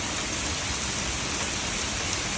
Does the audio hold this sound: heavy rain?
yes